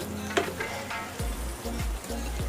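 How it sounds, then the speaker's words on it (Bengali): Potato curry being stirred in a hot pan after garam masala goes in, with steady sizzling and several low scraping strokes of the spoon repeating through the short stretch, close and moderately loud, no talk. "এখন আমি ভালো করে নেড়ে দিচ্ছি।"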